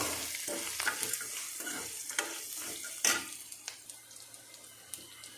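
Vermicelli sizzles in a pan while a utensil scrapes and stirs, with irregular clicks and scrapes over a steady frying hiss.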